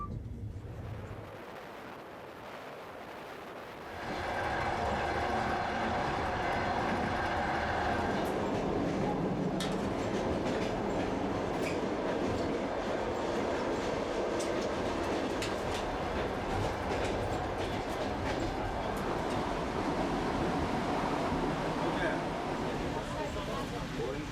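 A passenger train rolls steadily through Uzbekistan, a continuous loud rumble of wheels and carriage noise that swells after a quieter start and holds through to the end, with no talk over it.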